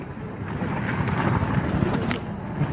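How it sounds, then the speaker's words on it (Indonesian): Strong storm wind on Mount Sindoro buffeting a tent, a loud continuous roar with rumbling gusts and flapping bursts close to the microphone throughout. "Angin kencang menggoyang tenda kami seperti mau diajak bermain layang-layang oleh sang badai."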